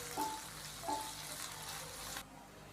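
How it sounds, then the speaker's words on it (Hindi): Carrots and capsicum fry in a pan with a soft continuous sizzle, broken by a couple of brief scraping stirs before the hiss drops away near the end. "हल्का सा फ्राई करेंगे सब्जियों को तकरीबन 1 मिनट के लिए।"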